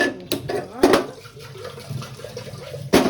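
Water runs steadily from a tap in a home kitchen, a soft continuous wash broken by a few sharp knocks and clatters.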